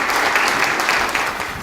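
Audience at a news outlet's anniversary ceremony applauds as a guest speaker goes to the podium, a dense, loud, even burst of many people clapping that carries through briefly and starts to fade.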